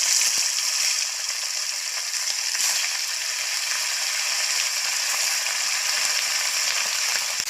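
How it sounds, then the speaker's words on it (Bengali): Spice-marinated fish frying in hot oil, giving a steady, loud, continuous sizzle with faint crackles and no voices throughout. "আর এই মাছগুলো মা বেছে মশলা মাখিয়েছে। এটা এখন ভাজা হবে।"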